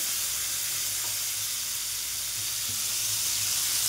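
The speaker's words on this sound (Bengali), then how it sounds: "তেল গরম হয়ে গেছে, এবার দিয়ে দেবো চিংড়ি মাছগুলো। এগুলোকে এবার ভালো করে ভেজে নিতে হবে একটু" Prawns dropped into hot oil tempered with black cumin sizzle loudly and steadily, a dense close hiss filling the whole stretch with no voices.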